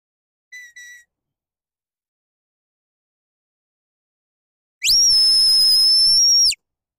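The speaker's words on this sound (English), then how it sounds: "He just doesn't like that lie down command and the whistle." A sheepdog training whistle gives the lie-down command to a border collie: two short high chirps, then a long, loud, steady shrill blast of almost two seconds, with no talking.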